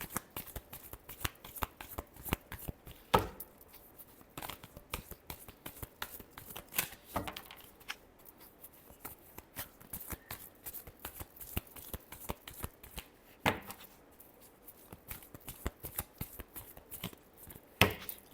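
Tarot cards shuffled continuously by hand: soft, rapid riffling and tapping up close, with faint irregular slaps throughout and no voice.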